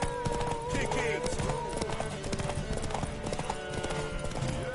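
Horse hooves clip-clopping at a steady gallop in The Witcher 3, close and continuous, with game music and a voice talking over them.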